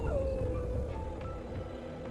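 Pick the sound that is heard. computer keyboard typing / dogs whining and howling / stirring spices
dogs whining and howling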